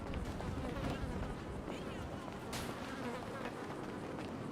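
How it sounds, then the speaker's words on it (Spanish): Flies buzzing around in a Spanish roleplay video game, a dense steady insect drone that fills the whole stretch at an even level with no clear pauses. "Las putas moscas."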